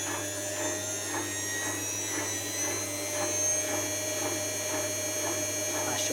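A Zanussi washing machine drum turns slowly before spin, a steady hum with a regular soft chugging pulse roughly every half second, constant and close.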